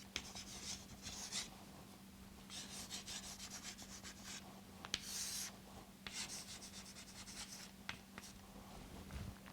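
Chalk or marker scratches across a board during a lecture on continuous and pulsed lasers, a faint run of short rubbing strokes with small pauses, heard alone.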